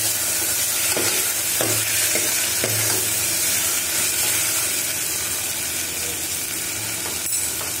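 Chopped tomato sautéing in a pan with oil for Tamil-style mutton paya (goat trotter stew), giving a steady loud sizzle with repeated scraping and stirring strokes of a spatula, close up and without speech.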